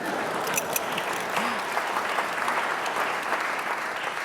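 Audience applause at a talk, a steady, moderately loud spread of many hands clapping that continues evenly for several seconds with no voices over it.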